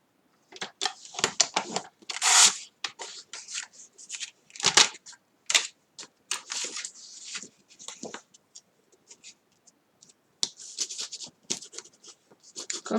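A paper card piece folded in half during card making, with crisp rustles, creases and taps in irregular short bursts, close and fairly quiet, with no talk.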